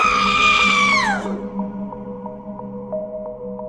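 A woman screams in fright, one long high shriek that bends downward and cuts off after about a second, followed by eerie sustained tones and faint pings.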